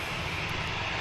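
An Aer Lingus airliner takes off, a dense, continuous jet engine roar with strong hiss, loud and unbroken through the brief moment.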